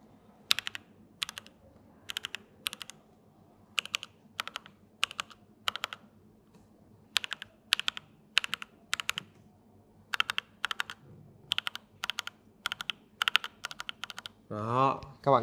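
Short runs of keystrokes on a mechanical keyboard with ABS keycaps, swapped from Cherry to SA profile, crisp and close to the mic with pauses between bursts, and a brief noisy handling sound at the very end.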